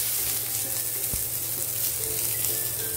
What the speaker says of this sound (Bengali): মশলাটা এভাবে ভেজে নিতে হবে ভালো করে, লাল লাল করে